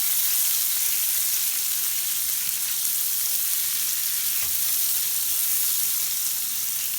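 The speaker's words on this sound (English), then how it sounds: "So we're going to saute the cherries in." Cherries sautéing in a pan give a steady, loud, close sizzle and hiss with no breaks, and nobody talks.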